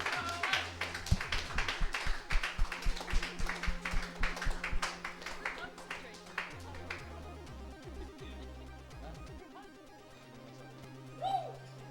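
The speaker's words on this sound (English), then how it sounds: "And one more round of applause for Alex!" Audience applause at the close of the 2023 CTWC UK regional event, a burst of clapping over music that thins out and fades, with a few scattered claps afterward.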